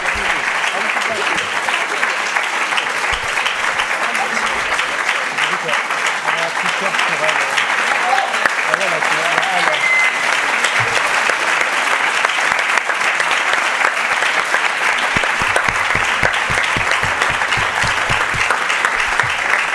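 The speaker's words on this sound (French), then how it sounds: "Merci pour les applaudissements." An audience at a public conversation event applauds loudly and continuously, a dense, even wash of clapping that holds steady from start to finish.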